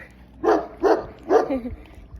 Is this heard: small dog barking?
yes